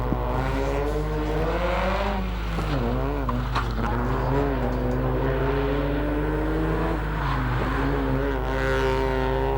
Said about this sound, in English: Wayne Casey now sending the little MX-5 to the finish line.